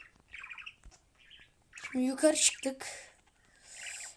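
A crow caws in the horror game Granny 3, a few harsh squawks in the middle of the scene, with someone talking before and around them.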